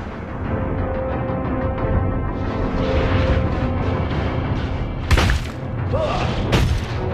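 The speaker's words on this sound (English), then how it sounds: "Your team destroyed a turret!" Explosion of a destroyed turret in the mobile game Mobile Legends, a sharp loud boom breaking over dense game effects and music, with a second burst soon after.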